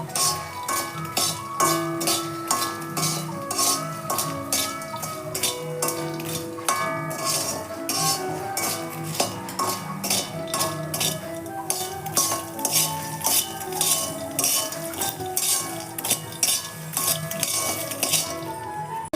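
Fried makhana being tossed with chaat masala in a bowl, a rhythmic run of clinks and scrapes from a spoon against the dish, close and steady, with music playing throughout.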